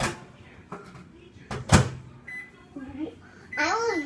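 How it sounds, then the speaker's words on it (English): A microwave oven melting butter: a door thumps shut, then electronic beeps chirp near the end, between bursts of a child's and an adult's talk. "I'll melt this in the microwave for a minute."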